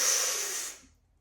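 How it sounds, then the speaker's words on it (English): A long, deep inhalation during a beginner stress-reset breathing exercise, a steady airy rush close to the mic that holds for most of a second before fading to silence. "Breathing in. Fill up more."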